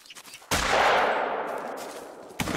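A single loud rifle shot in the hunting game The Hunter: Call of the Wild cracks out sharply, then rolls away in a long, fading echo that trails for about two seconds.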